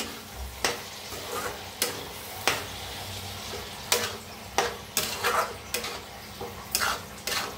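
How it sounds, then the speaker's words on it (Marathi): Masoor dal is stirred with salt in a pan, a spoon repeatedly scraping and tapping the metal in irregular close strikes over a faint sizzle. "आता डाळीला मिक्स करून घेऊया"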